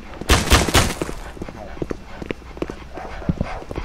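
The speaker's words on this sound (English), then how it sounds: "Where's all that gunfire coming from?" Gunfire in a Roblox prison game crackles in rapid bursts of sharp shots, loudest at the start and continuing as scattered pops, with a dog panting and voices mixed in.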